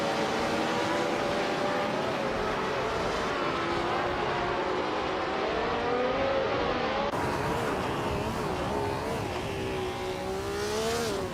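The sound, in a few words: 1967 Eagle Mark 1 race car engine in a racing video game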